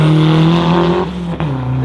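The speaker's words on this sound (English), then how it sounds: "Fully fucking built drift car." A fully built drift car roars past during a street drifting session, its engine note loud and strained, dipping briefly as it passes before revving back up with tire noise.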